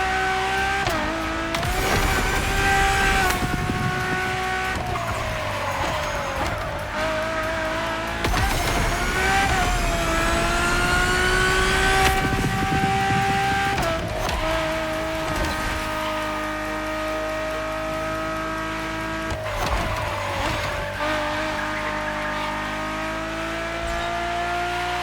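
A Ferrari supercar drives in the video game The Crew Motorfest, its engine howling through repeated upshifts with rising pitch sweeps, alongside brief tire squeal, loud and close with no talk.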